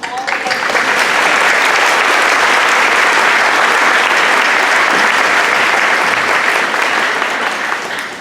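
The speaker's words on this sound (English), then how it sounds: "So a huge round of applause to all of you." Loud, sustained applause from a crowd of families and friends fills a fifth grade moving up ceremony, a dense clapping roar that holds steady before tapering slightly at the end.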